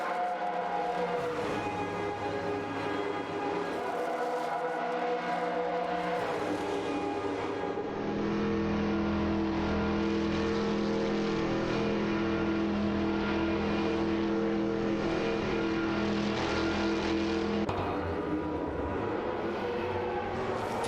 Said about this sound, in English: The Porsche 962, C Short Tail, and Mazda 787B are locked in a tight battle on the track.